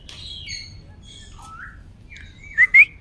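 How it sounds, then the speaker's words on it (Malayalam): A peacock at a Gujarat nature park gives thin whistled calls over faint background rumble, then two short, loud, sharp notes near the end. "നമ്മൾ വിസിൽ ഊതുന്ന പോലെ അത് ഊതുന്നു ഒരു സാധനം"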